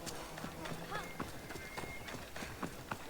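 Horse hooves clip-clop in a video game, a quick rhythmic patter of soft knocks running under steady talk, with a brief high whinny-like tone near the middle.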